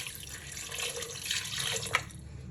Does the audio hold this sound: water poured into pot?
yes